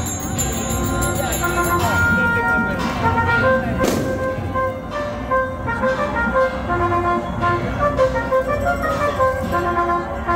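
During a religious street procession for the Virgin of Soledad de Porta Vaga, the official procession vehicle passes with short horn toots and engine rumble. The sound is layered over festive crowd noise, music and voices.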